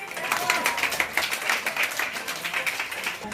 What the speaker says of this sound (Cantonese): 掌聲好唔好啊？